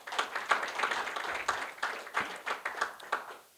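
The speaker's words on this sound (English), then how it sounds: "a round of applause to Dr. Sfiso" Modest applause at an African awards luncheon honouring a guest: a handful of people clap in loose, scattered bursts, fairly faint and without talk.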